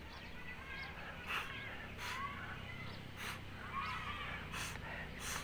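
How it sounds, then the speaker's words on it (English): A person sniffs water up through a nostril during jal neti nasal cleansing, giving several short sharp snorting inhalations in a loose rhythm, close and fairly faint. "Like this, I'm sniffing."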